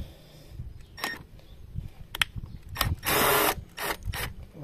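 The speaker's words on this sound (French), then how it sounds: "mais moi j'ai cet appareil là, j'ai une petite boulonneuse, donc" A small impact wrench with a 10 mm socket spins bolts loose while removing injectors from a 1.6 HDI engine, giving several short whirring bursts with one longer run, close and loud.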